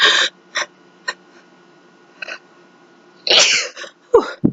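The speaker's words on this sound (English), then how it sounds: "Oh, I'm going to sneeze." A sudden nearby sneeze bursts out after a few short breathy catches and sniffs, loud and close, with no talking.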